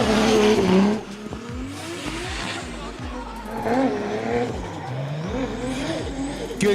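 Drift car accelerating on a wet track at a D1GP drift event in Malaysia, engine revving up and down with rising pitch sweeps, tire squeal and a loud roar, then a commentator's voice over the engine noise.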